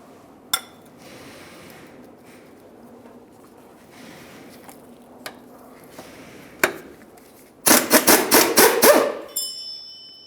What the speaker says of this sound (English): To remove this bolt, we'll be using a 15mm on the inboard side of the bolt. For the nut, use an 18mm.